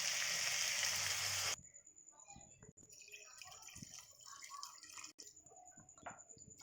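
Two cups of water hit frying chicken in a pan for chicken do pyaza, making a loud, harsh sizzling hiss that cuts off abruptly into quieter bubbling, ticking and dripping sounds from the pan.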